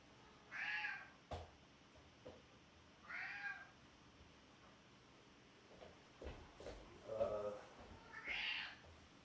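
A cat meows several times in separate, fairly close calls spread across the stretch, with quiet pauses between them and no talking.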